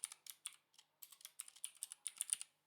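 Code typed on a computer keyboard, close crisp key clicks in short bursts with brief pauses between words, alone and without any voice.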